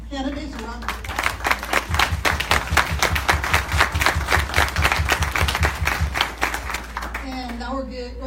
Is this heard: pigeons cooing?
no